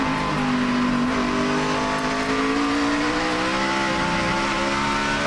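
Race cars roar past at over 160 mph down a short chute into a turn at the Watkins Glen road course, a loud, continuous high-pitched engine drone with rising and falling pitch as the cars pass close by.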